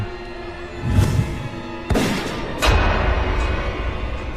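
Several loud, sharp bangs ring out, three blasts spaced about a second apart over a noisy, rumbling background, like gunshots.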